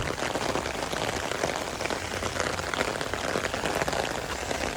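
Heavy rain pouring down on a morning at Charles Towne Landing State Historic Site, a dense, steady hiss of drops hitting surfaces with no breaks and no voices.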